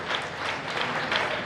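A congregation claps steadily at a Saturday Holy Mass in a shrine basilica, dense applause from many hands filling the hall throughout.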